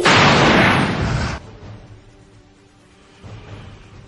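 A loud explosion effect bursts forth in a fantasy audio drama as a golden shockwave tears across a sea, a broad roaring blast that rumbles for over a second before fading into a low drone and a smaller swell near the end.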